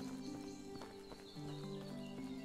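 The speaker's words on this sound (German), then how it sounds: "Da sind die Pferde." Horses at a stable in Medieval Dynasty, with steady hoof clops and a brief snort or whinny over a low tonal game ambience, close and moderately loud.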